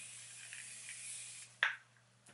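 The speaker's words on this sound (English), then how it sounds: "So what we're gonna do is first spray my whole face" A setting spray mists over a face in one brief, sharp hiss burst, close and fairly loud after a quiet background, with no talking.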